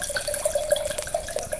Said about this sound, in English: Sound of wine being poured into a glass.